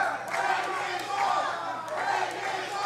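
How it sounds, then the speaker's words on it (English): Wrestling crowd at a live OVW show shouting and chanting in rising and falling waves, loud and close, with mixed voices throughout. "This crowd bloodthirsty saying, break his arm"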